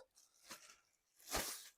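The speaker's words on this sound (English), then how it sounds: "Plastic bags in the way. A lot of plastic in this product." Plastic packaging bags on flat-pack bookshelf parts being handled, two brief crinkling rustles, close and fairly quiet.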